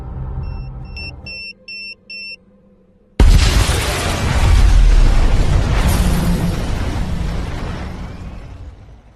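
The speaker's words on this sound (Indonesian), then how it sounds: "terlihat sebuah mobil mewah terparkir di pinggir jalan sebelum pada akhirnya meledak" A sudden, massive explosion of a luxury car parked at the roadside bursts out after a quiet stretch with a few electronic beeps, then a long roaring rumble slowly fades away.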